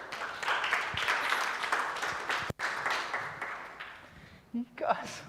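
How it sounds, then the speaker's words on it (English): A room of people applauds at a summer school session, a steady spread of clapping held for several seconds that cuts off sharply and then tails away as a voice starts to speak. "Give the man a round of applause."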